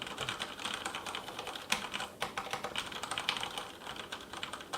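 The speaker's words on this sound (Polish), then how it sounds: "posłuchajcie, jak te Cherry MX Brown działają." Fingers type on a Cm Storm Trigger Z mechanical keyboard with Cherry MX Brown switches, a quick, irregular patter of fairly quiet key clicks and thocks with no voices over it.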